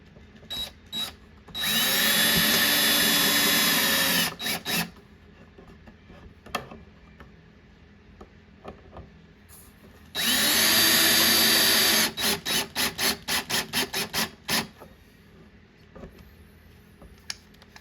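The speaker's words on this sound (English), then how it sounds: "You don't want to over tighten those, especially when you're using a drill." Power drill driving screws to mount a light switch into an electrical box, two sustained whirring bursts, each followed by a rapid series of short clicking pulses, close and with no talk.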